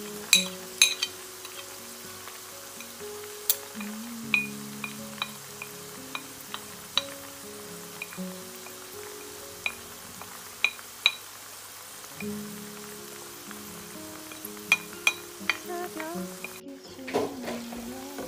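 Spices added to browned onions frying in a pan for a ridge gourd dish, a soft ongoing sizzle broken by scattered sharp clinks and scrapes of a stirring spoon, close, with no talk.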